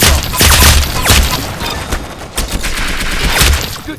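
Rapid gunfire from the video game Arsenal rattles loud and dense, a fusillade of overlapping shots and booms with no voices.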